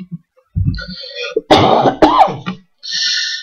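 Two harsh coughs in quick succession, close and loud, between quieter stretches of background sound.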